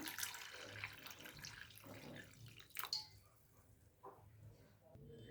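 Water is poured over three peeled potatoes in a bowl to wash them, with close, soft splashing and trickling that comes in uneven bursts and fades to quieter drips.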